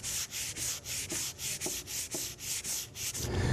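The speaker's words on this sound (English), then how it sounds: "we'll start with 120 and go over this entire chair by sanding evenly on all these surfaces" Sandpaper of 120 grit rubs back and forth on a wooden chair in a steady rhythm, about a dozen even rasping strokes close up, sanding by hand.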